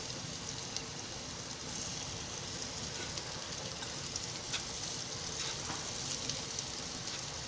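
Bitter gourd slices roasting in an open pan, a steady faint crackling sizzle with scattered small pops throughout, no voices.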